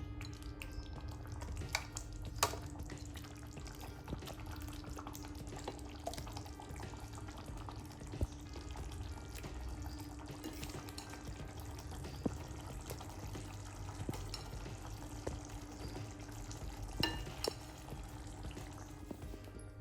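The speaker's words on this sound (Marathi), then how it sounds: "हे बघा आपली मस्त उकळी आलेली आहे आता भाजीला" Aloo matar paneer curry simmering in a pan, a soft continuous bubbling and gentle sizzle with a low hum underneath, faint and steady with occasional small pops and clicks, no voices.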